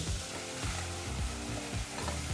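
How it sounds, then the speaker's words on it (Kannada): Onions frying on a medium flame for veg aloo biryani give a steady, close sizzle throughout, with a few soft stirring scrapes and no voices. "ಮೀಡಿಯಂ ಫ್ಲೇಮ್ನಲ್ಲೇ ಈರುಳ್ಳಿನ ಚೆನ್ನಾಗಿ ಹುರ್ಕೋಬೇಕು"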